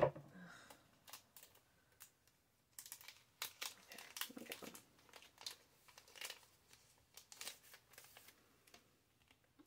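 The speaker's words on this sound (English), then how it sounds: "Let me just go on and cut it because it's still taped." A taped package is cut open close by with faint crinkling, scraping and quick ticking handling noises, in irregular bursts over several seconds.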